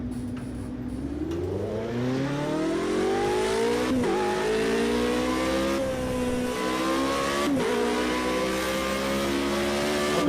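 A race car engine in Project Cars 2 revs up through the gears, its pitch climbing, dropping briefly at each shift, then rising again. The drone stays loud and close, with no talk.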